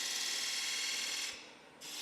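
A lathe point tool cuts a 45-degree chamfer in a metal part for threading, giving a steady, close, loud grinding hiss that eases off briefly near the end before resuming.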